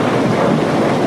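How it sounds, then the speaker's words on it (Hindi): Dense, loud roar of heavy rain at night with a thunder rumble, a steady wash of noise with no voices. "बाहर कड़कती बिजली और मूसलाधार बारिश हो रही थी।"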